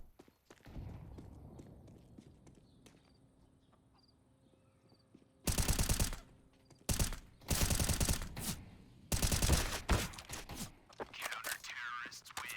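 Pistol fire in Counter-Strike on the Inferno map: after quiet footsteps and faint game ambience, several loud clusters of rapid shots crack up close, broken by short pauses.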